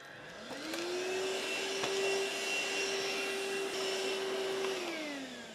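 A vacuum cleaner hoovers a room, its motor whining up to a steady, fairly close drone that holds for several seconds before winding down, with no talk over it.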